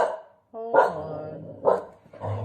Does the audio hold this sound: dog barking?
yes